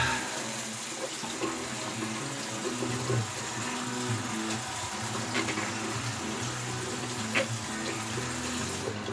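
Tap water runs steadily into a sink, a continuous close splashing with small shifts in flow as soap is rinsed from a shaving brush beneath it.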